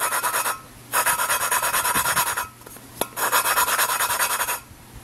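A tool on a 1993 Ford Ranger 4x4 grinds in long rasping passes, close and fairly loud, with short pauses as it is worked and reseated; there is no talking.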